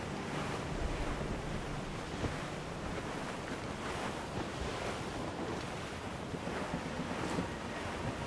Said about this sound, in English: That wind's strong.